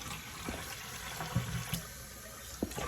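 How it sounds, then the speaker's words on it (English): Water, about 40 grams, is poured into a pan of syrup while making sweet chilli sauce. It comes through as a soft, continuous trickle and splash up close, with a few small clinks and knocks over the flow. "We might need to put some water, like 40 grams, just tiny bit"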